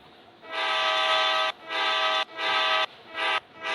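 Train horn in the Indian Bike 3D mobile game, sounding in four loud, sustained blasts of decreasing length separated by short gaps, heard alone without talk.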